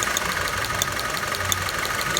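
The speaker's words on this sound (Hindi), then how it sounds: "होंडा स्वीट रीबर्ड इंजन मिसिंग कर रही है गाड़ी" Close, steady idle of a Honda Civic engine that is misfiring, with a fast, even ticking knock and faint irregular stumbles running over a continuous mechanical hum.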